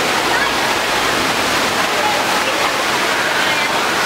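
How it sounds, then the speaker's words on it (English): Loud, steady rushing and splashing water fills the space without a break, like a busy water park. "So guys, we are in here in the water park."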